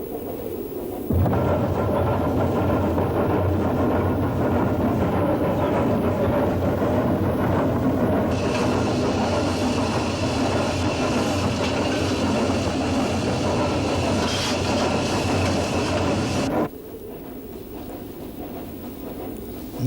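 A coal-fired steam locomotive on the Snowdon Mountain rack railway grinds along in a loud, continuous rumble with rattling and a brief brighter hiss layered in midway, then drops to a quieter background near the end.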